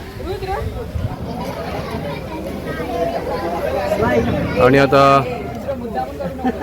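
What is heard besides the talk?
chatter of a gathering crowd at a school supplies distribution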